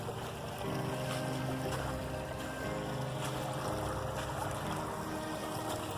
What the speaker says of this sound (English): The sound of the water, especially.